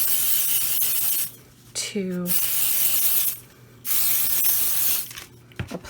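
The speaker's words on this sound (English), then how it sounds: "We're going to take our pixie spray and we're going" Bursts of a pixie spray bottle misting onto the back of watercolor paper, two long hissing sprays with a pause between, close and fairly loud, followed by short quick spritzes; a voice speaks briefly between them.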